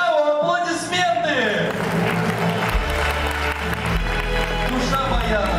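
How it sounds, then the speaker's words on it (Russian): A concert hall audience at an accordion gala applauds loudly, a thick continuous wash of clapping with a crowd murmur, while music or a voice carries on over the top and a low rumble enters midway. "Аплодисменты!"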